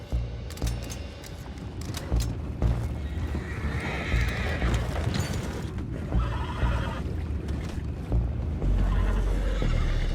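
Horses in the Red Dead Redemption 2 video game whinny and neigh over a steady clip-clop of hooves, loud and close, with some mechanical clatter in the background and no speech.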